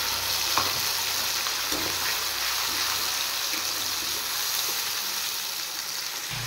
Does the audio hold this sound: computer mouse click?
no